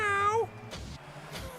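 A person's voice imitates a cat's meow, like Gary the snail, a single drawn-out, rising-then-falling meow up close, followed by brief soft mouth noises.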